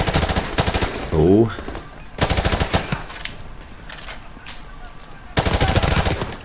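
Rapid automatic gunfire from Call of Duty: Modern Warfare Remastered crackles in loud bursts, with a long stretch of shooting in the middle and a final burst at the end, while players talk over it.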